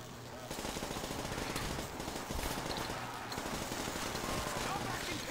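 PPSh submachine gun in Call of Duty: World at War Zombies, sustained rapid automatic fire, loud and dense, with only brief breaks between bursts and players talking over it.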